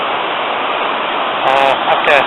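Ffestiniog waterfall roaring in a constant dense wash, with a voice speaking briefly over the rushing water near the end.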